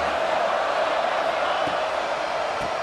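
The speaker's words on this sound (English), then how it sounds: "Listen to the crowd energy here in the early going." At a Mississippi State versus Oregon football game, a dense stadium crowd roars in a steady, unbroken wash of noise, loud and distant-sounding, with no distinct voices standing out.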